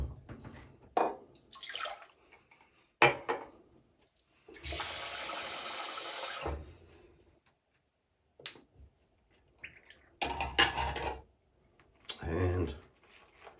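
During a safety-razor wet shave, water splashes and runs for about two seconds as a razor is rinsed in a bowl, set among quieter clinks, handling noises and brief stretches of talk.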